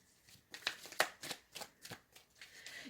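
Tarot cards are shuffled close up for a reading, giving a run of crisp riffling and slapping bursts in a steady rhythm, with no talk over them.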